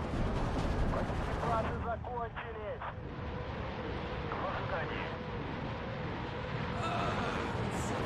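Mortar and artillery fire in the strategy game Steel Division 2, heard as a steady rumbling barrage with scattered dull blasts under someone talking.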